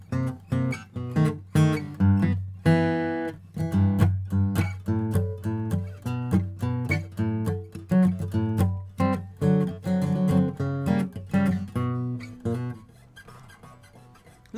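An electric guitar with new strings plays a lively riff of quick, plucked notes and chords, clear and fairly loud, with some string noise between the notes before it fades near the end.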